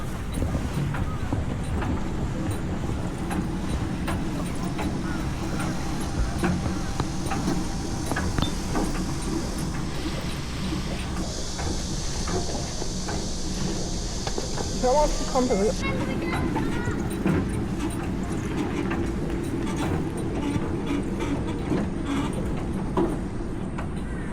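A rail bike rolls along a small track course through trees at Gapyeong, giving a steady rumbling wheel-on-rail drone throughout, with people talking over it.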